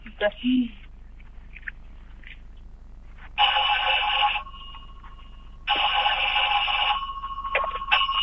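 An old telephone bell ringing in a 1956 French film: two long rings separated by a pause, fairly clear, after a brief voice at the start, with a faint background hiss.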